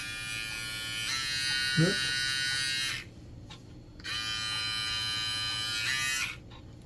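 A Brightup rechargeable hair clipper and beard trimmer runs with a loud, close, steady buzz, stops for about a second, then runs again. A voice says a brief word partway through.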